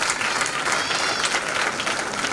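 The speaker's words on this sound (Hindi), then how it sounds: "हम उनका भी ज़ोरदार तालियों से उनका इस्तकबाल करते हैं।" A crowd welcomes a guest with loud, continuous applause at a stage play staged for an anniversary event, a dense clapping texture with no pauses.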